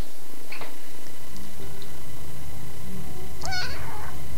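A cat meows twice in The Stanley Parable, a short call early and a clearer, louder meow near the end, over a low steady ambient hum.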